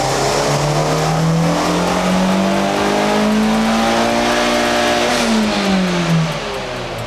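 Boosted car engine held at half throttle, a loud steady drone whose pitch climbs slowly and then eases back near the end, close and continuous.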